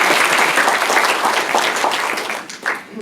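Audience applause fills a room after a professional-career speaker's remark, a dense steady clapping that dips and briefly swells near the end.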